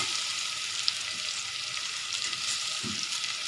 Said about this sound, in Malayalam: പച്ചമുളക്, ഇഞ്ചി, വെളുത്തുള്ളി ഇതൊക്കെ നന്നായി മൂപ്പിച്ചെടുക്കണം.